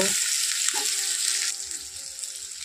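Onions fry in a pan over low heat, a steady bright sizzle that is strong at first and then softens, with a brief stirring clatter early on.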